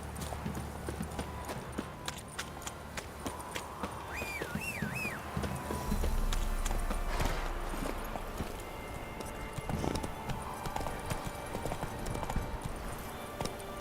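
Horse hooves clip-clop steadily in The Witcher 3 video game, a rhythmic walking gait that carries on throughout, with a brief whinny-like call and occasional faint rustle behind it.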